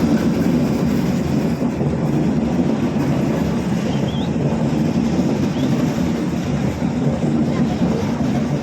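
A OUIGO high-speed train pulls out of Valencia Joaquín Sorolla station with a steady, loud low rumble and a continuous rolling noise.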